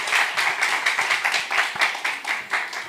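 Brisk, fairly loud applause from the gathering at a regional church presbytery evangelism camp's ministers' meeting, welcoming a pastor to the front. Claps patter in a quick, slightly rhythmic stream.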